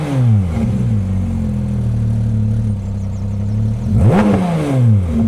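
Porsche engine revved to about 3000 rpm close by: a loud steady mid-pitched drone, a brief dip, then a sharp rising rev near the end that falls back.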